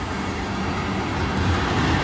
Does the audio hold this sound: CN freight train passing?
yes